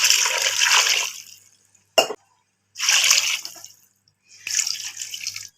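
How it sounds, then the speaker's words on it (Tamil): Water pours in three bursts separated by pauses, splashing into a cooking pot while making mutton paya, with a brief clatter between the first two pours. "அப்படியே தண்ணியும் சேர்த்துக்கலாம்."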